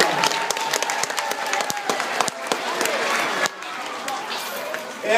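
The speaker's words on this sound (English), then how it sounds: "Give them a round of applause." Audience applause at a youth sports team introduction, a steady wash of many hands clapping with crowd chatter mixed in, dipping briefly near the middle before swelling again at the end.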